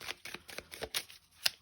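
Tarot cards being shuffled by hand, a quick irregular run of crisp, close flicks and riffles with brief pauses between them, no voice.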